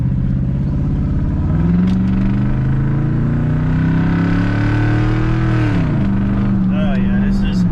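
A 2007 Ford F150 pickup with a 4.6 V8 engine accelerating, its steady loud drone climbing in pitch, then dipping at a shift and pulling again. Someone talks over the engine throughout.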